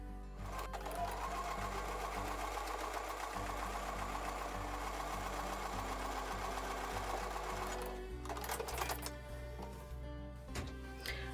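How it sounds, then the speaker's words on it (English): Sewing machine stitching a quarter-inch seam on a quilt block, a steady rapid mechanical chatter that runs continuously, with brief changes in pace and a pause near the end. "So I'll take that over to the sewing machine and sew with a 1/4 inch seam."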